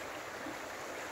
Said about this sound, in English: The water comes down through there pretty quick.